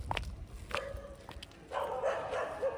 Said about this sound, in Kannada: ಇಷ್ಟು ನಾಯಿ ಬೊಗ್ಳುತೈತೆ